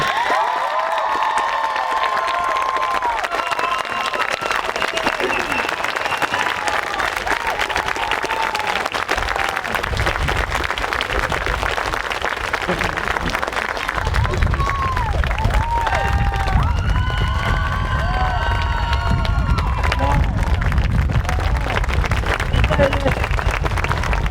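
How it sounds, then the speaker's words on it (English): A large crowd at a graduation ceremony applauds steadily for a long stretch, with cheers and shouts rising over the clapping. "Please give a big round of applause to the Flex class of 2024."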